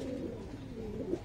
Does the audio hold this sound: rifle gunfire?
no